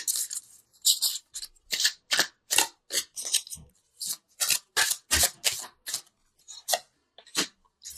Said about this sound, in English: I wanted to pull an angel card just to bring it all together